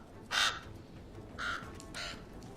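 A crow cawing three times, harsh raspy calls spaced about a second apart, the first loudest and the later two softer, heard alone against quiet background noise.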